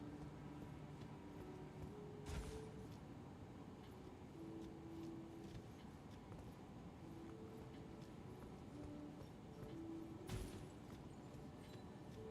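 Faint horse hooves from Elden Ring clip-clop at a steady gallop under quiet game ambience, broken by two sharp, brief impacts.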